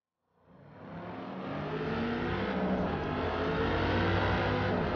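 Racing car engines roar in the Forza video game at the Hockenheim circuit as a Mercedes-AMG battles a Dodge Viper. The roar swells quickly from silence into a loud, sustained, dense drone that holds steady to the end.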